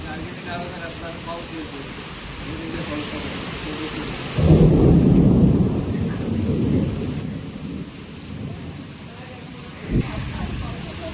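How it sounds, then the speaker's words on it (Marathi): Deep thunder rolls in and rumbles loudly for a few seconds over steady unseasonal rain in a Konkan storm, with people talking nearby before and after. "पण गडगडत आहे खूप."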